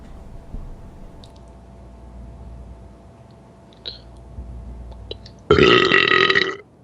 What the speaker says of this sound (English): That's a BlizzCon burp right there.